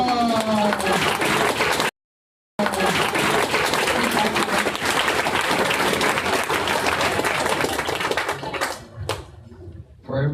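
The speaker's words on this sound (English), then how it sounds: "round of applause for Speakful" Dense, sustained audience applause at a co-founders meetup after a startup pitch, many hands clapping steadily with a brief cut partway, then tapering off near the end.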